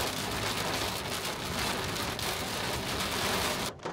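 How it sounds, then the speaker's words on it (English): Heavy rain in a torrential downpour, a dense, loud, continuous hiss of drops pounding a surface, unbroken until a brief dip right at the end, with no voices. "going through a torrential downpour"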